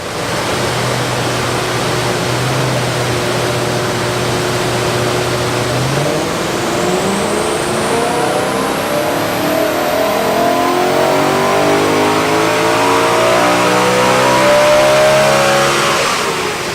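A BMW E92 M3 fitted with an Eventuri intake revs hard on a dyno, its loud engine tone climbing steadily in pitch through the run with a rising whine and no talk.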